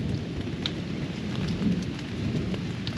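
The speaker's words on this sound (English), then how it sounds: "It's storming pretty good." Heavy rain drums on a tent during a summer city thunderstorm, a loud continuous patter with low rolling thunder rumbling underneath and scattered sharper drops close by.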